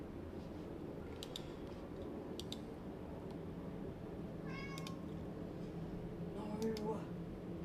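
A cat meows several times in short, scattered calls, close by over a steady background hum, beside a live PC build featuring an Aorus Master 4090 and Ryzen 7950X3D.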